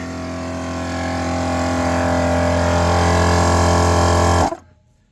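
A mini air compressor pumps up a tire with a loud, steady motorized drone that swells slightly, holds for about four seconds, then shuts off abruptly into near silence.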